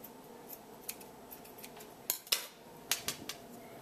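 Scissors cut through long underwear fabric, giving sharp snipping clicks spread irregularly: a few light snips, then louder clustered cuts in the second half, close and clear in a quiet room.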